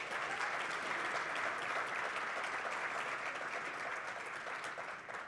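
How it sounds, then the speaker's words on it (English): A conference audience at a national green hydrogen event in Namibia claps in sustained, dense applause, a steady even roar of many hands from start to finish with no voices on top. "I think the Vice President of Worley International does deserve a bigger round of applause."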